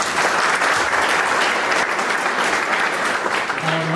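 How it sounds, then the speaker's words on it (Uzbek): A graduation ceremony crowd at an academic lyceum applauds its teachers, a dense, even wash of clapping from many hands that holds steady throughout. "ular uchun alohida olqishlar"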